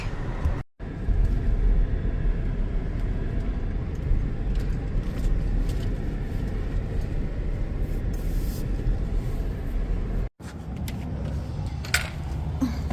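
An SUV with a faulty air conditioner driving to a mechanic, a steady loud road rumble and engine drone heard from inside, broken by two brief dropouts, with no talk.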